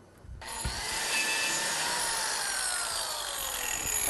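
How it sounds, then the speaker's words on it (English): A biscuit joiner cutting elliptical slots into wood, a sharp whirring bite that starts abruptly and holds steady as a loud, rough cutting whine, close and alone. "just used a biscuit joiner to make elliptical cuts"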